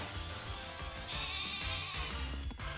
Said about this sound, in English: this is one of the few Pokemon whose noise actually sounds like an animal